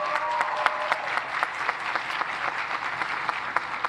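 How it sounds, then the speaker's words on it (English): Applause from a university commencement audience, a steady patter of many hands with a few sharper claps popping out. The clapping is moderately loud and even throughout, with no talk over it. "Yeah, we can give that a round of applause."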